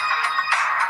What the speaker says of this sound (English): That's my ringtone from my BlackBerry from 11 years ago.